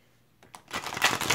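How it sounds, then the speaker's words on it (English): Oracle cards from the Universal Love deck by Tony Carmine Salerno being shuffled by hand, a brief quiet riffling that builds into a loud, dense rustle of card stock close to the microphone. "So let me go ahead and give these a shuffle."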